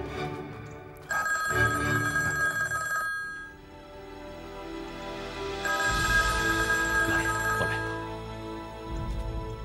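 An old-style telephone bell rings in two long bursts with a pause between them, loud and close, followed by a short rustle.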